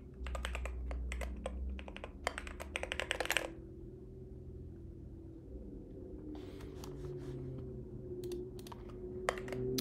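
A Keychron Q4 mechanical keyboard is typed on in quick clacking bursts, a pause in the middle, then more keystrokes, close and crisp over a low steady hum.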